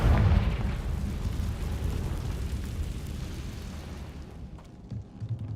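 A Confringo blasting spell goes off in the Hogwarts Legacy video game, starting with a loud booming burst and then a rumbling roar that slowly fades, with a few small pops near the end.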